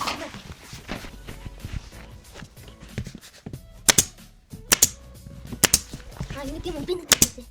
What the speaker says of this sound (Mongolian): Миний тэр компрессор бууштай сая хадаас хадсан шар.